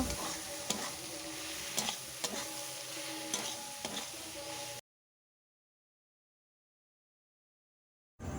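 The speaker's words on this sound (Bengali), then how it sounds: "লঙ্কা গুঁড়ো দেওয়ার পর নাড়াচাড়া করে আমি আলু বেগুন কষে নেব" Potato and eggplant fry with ginger paste while a spoon stirs them, producing a steady sizzle with regular scraping strokes about every half second. The sound then cuts to silence before resuming briefly at the end.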